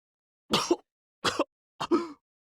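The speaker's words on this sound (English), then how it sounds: "Oh, he's gonna cough again." A character in the visual novel Virche Evermore coughs three times in close succession, each a short, harsh, nearby burst separated by silence.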